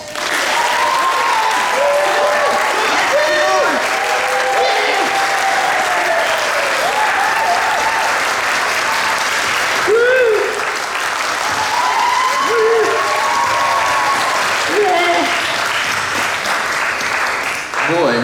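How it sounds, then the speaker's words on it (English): Steady, loud applause from a theatre audience at a Robin Hood stage show runs throughout, with shouts and whoops rising over the clapping. "let me know by a round of applause"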